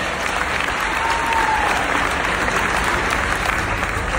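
A crowd at a testimony gathering in Phoenix claps continuously and steadily for over four seconds, a thick wash of many hands at a constant loudness with no voices standing out.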